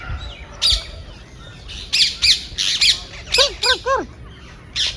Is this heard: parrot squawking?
yes